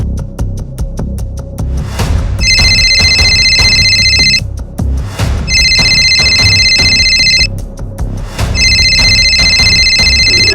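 A telephone rings out while a call is being placed, loud repeated electronic trills in three long bursts separated by brief pauses, close and clear with no voices.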